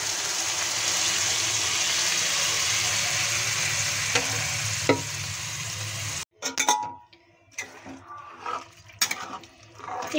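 Boiled dal goes into a pan of frying fish heads for muri ghonto, a steady close sizzle that suddenly cuts off, followed by soft clinks and wet stirring sounds.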